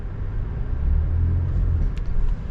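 A 2023 GMC Acadia AT4 crawling up a curb, a loud, low engine rumble with steady strain and slight rises, heard close up from inside the vehicle.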